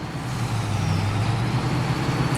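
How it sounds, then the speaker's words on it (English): A truck pulling up in the farming video game Farming Simulator 22, its low engine drone steady and close with a brief hiss like an air brake, no voices. "What's this coming? It's a truck. Ooh, it's our truck."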